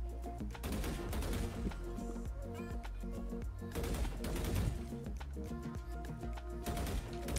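Rapid bursts of gunfire from a shooter video game run through the whole stretch, dense and loud with repeated volleys and steady game background, no talking.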